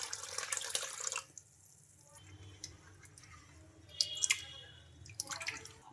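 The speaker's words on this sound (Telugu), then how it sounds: "ఈ ఇడ్లీ రవ్వని ఒకసారి శుభ్రంగా వాష్ చేసుకుందాం" Water splashes and drips as idli rava is rinsed in a bowl: a short burst of pouring at the start, then a quiet stretch and a few scattered splashes and trickles near the end, with no voices.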